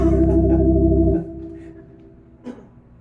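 A sustained low open-harmony chord on a Lowrey organ holds for about a second, then cuts off into a fading tail, with a faint click a moment later.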